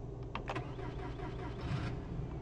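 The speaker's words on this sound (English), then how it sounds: "So what does it sound like when I turn on the car?" In the video game BeamNG.drive, a Burnside Special car's engine starts with a few sharp clicks and a cranking whir, then settles into a low steady idle hum.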